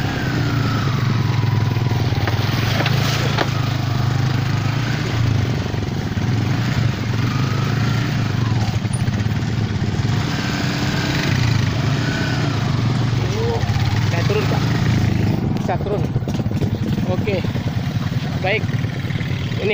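A motorcycle engine running on a long muddy dirt road, a continuous loud mid-pitched engine drone with some clatter, steady and close for the whole stretch, with voices in the background.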